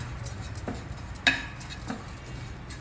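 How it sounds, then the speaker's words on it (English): Dry coconut powder being roasted and stirred in a pan, with soft scraping and light clinks of the utensil against the metal over a low steady background, one sharper tap standing out. "Now just roast it in this pan itself for a couple of minutes"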